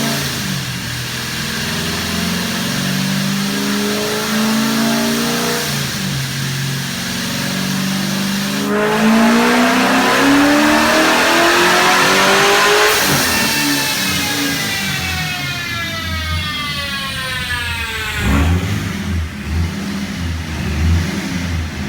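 Corvette engine with boost roaring on a dyno, revving hard through repeated climbing sweeps, sharp lifts and drops between pulls, loud and close with no talking.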